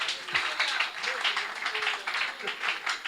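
Congregation clapping in acclaim of the Lord at a church service, a steady dense patter of many hands with no gaps, fairly close and lively.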